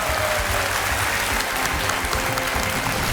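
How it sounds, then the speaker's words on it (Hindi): Studio audience on the KBC season 10 game show bursts into dense, steady applause, a broad wash of many hands clapping close and loud throughout, with no voices rising above it. "ताली बज जाए प्रियांशी के लिए।"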